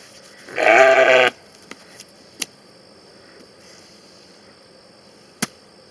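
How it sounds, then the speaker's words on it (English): A single loud bleat from a sheep close by, lasting under a second, followed by a few faint clicks and knocks in an otherwise quiet space. "today we got the sheep up here"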